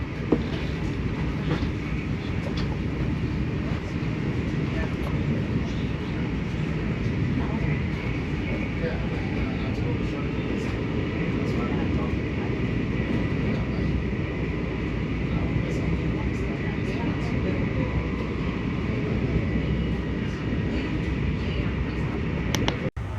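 Steady, loud rumble and rolling hum inside a Brightline passenger train travelling from Orlando to Miami, continuous throughout with faint voices talking under the noise.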